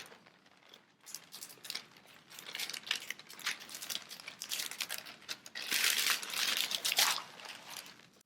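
A cup of flour tipped into a plastic bag for bread-in-a-bag, close crinkling and rustling of the plastic that builds to a louder burst of crackle near the end, no speech.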